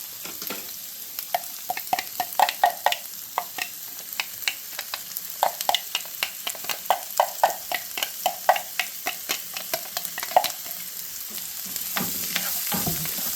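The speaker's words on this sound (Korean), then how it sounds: "센 불에서 조금 더 볶아주도록 하겠습니다. 애호박과 양파를 함께 볶다가" Zucchini and onion are stir-fried over high heat in a hot pan, with a steady sizzle under frequent sharp scraping and clacking stirring strokes in an irregular rhythm, close and clear, with no speech.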